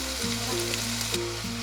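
Chicken pieces sizzle in oil and caramelized rock sugar over medium heat, a steady close crackling fry that runs continuously with a faint tonal hum underneath.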